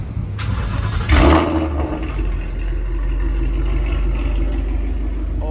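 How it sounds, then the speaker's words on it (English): A Mustang GT with a loud exhaust fires up on a warm start, a sharp bark of ignition settling into a deep, steady rumbling idle, close and alone. "why don't we give you guys a little warm start"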